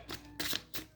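Tarot cards riffle-shuffled close by in three quick, crisp bursts of flicking paper, soft and alone in a quiet room.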